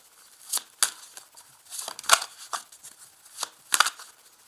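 A deck of tarot cards is cut and shuffled by hand, giving a few sharp papery riffles and flicks at irregular intervals, close and moderately loud, with no one speaking.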